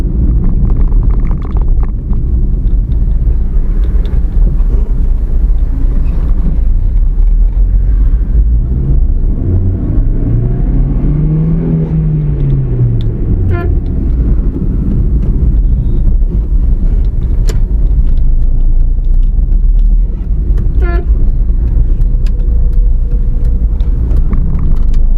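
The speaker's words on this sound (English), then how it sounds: "I'm doing this so that you can actually like feel the sound of the engine." A 2009 Hyundai i10 engine while driving, a steady low hum with road and wind noise filling the cabin, loud and continuous with a brief rising and falling tone midway and no talk.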